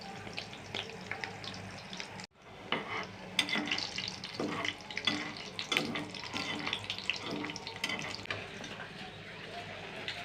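Naan bread frying in plenty of hot oil, a steady crackling sizzle with watery bubbling that holds throughout, broken by one brief drop near the start and a few louder bursts as the dough shifts.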